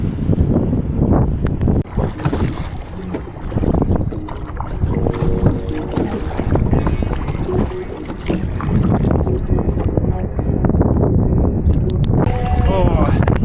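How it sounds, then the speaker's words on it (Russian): Steady rough wind rushing and buffeting the microphone on open water from a boat, with a voice talking over it throughout. "Ветер сильный сегодня"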